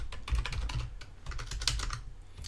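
Fast typing on a computer keyboard, a close, steady stream of light plastic key clicks with brief uneven pauses, heard alone.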